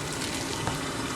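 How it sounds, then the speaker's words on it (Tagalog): A sauce of water and salted black beans simmers under a lid in a pan, giving a steady, close, even bubbling hiss with no voices over it. "Hintayin natin mag-simmer."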